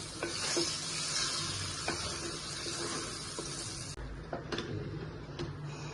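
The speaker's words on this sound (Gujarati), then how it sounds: "બધું મિશ્રણ છે ને આપણે તેલમાં નાખી દીધું છે અને આપણે એને છે ને થોડીક વાર હલાવતા રહેવાનું" Bottle gourd snack mixture stirred in hot oil in a kadai, a steady close sizzle of frying with scraping stir strokes throughout, no talking.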